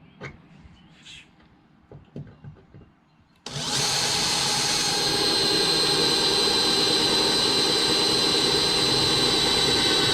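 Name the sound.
drilling a hole in rotted lawn tractor mower deck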